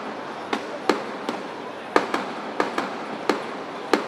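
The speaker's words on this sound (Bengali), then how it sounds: "আন্দোলনকারীদের ছত্রভঙ্গ করে দিতে বিরতিহীন গ্রেনেড ছোড়ে পুলিশ।" Police grenades exploding in rapid succession during an afternoon street protest in the Karwan Bazar–Bangla Motor area of Dhaka, roughly ten sharp, loud bangs at irregular intervals over a constant crowd-noise background.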